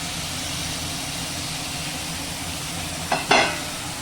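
Hot water poured into fried spice paste for Bengali dhokar dalna, the steady sizzle of the pan broken by a sharp hissing burst near the end as the water hits.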